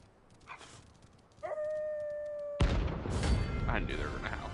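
Wolves in Final Fantasy XVI let out a sustained, steady howl, clear and loud, before a burst of combat noise and voices breaks in over it.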